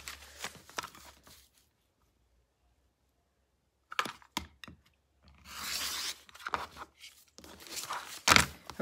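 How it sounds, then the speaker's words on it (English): Trimming a paper pieced log cabin quilt block produces rustling, tearing and crinkling bursts of paper and cutting, separated by a quiet pause, close and fairly soft. "you're going to trim it up so that your block is nice and square."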